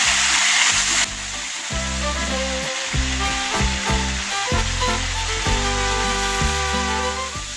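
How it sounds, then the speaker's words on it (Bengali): Spice masala with chilli powder being sautéed in a pan for a tomato and tangra fish curry, a steady loud sizzle and fry running throughout with intermittent stirring, no talk. "এবার এটাকে ভালো করে কষাবো।"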